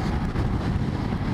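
A 2001 Honda Shadow 600 custom motorcycle being ridden, with a steady low engine rumble and heavy wind buffeting the microphone throughout, loud and close with no talking.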